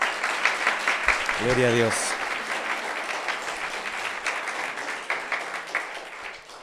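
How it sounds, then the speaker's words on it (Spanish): A church conference audience claps for the event organizers, a loud, crackling applause under a short spoken phrase from one voice near the start, continuing steadily to the end. "un aplauso para todos ellos"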